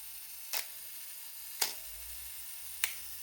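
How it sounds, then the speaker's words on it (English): Olympus OM2n 35mm film camera running its manual self-timer, three sharp mechanical clicks spaced about a second apart against near silence. "Use the self-timer function and start the self-timer."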